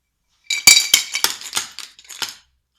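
Broken glass shards from a cut bottle bottom rattle and clink inside a covered container shaken hard, a burst of about eight sharp, bright, jangling hits lasting two seconds, close and loud against silence.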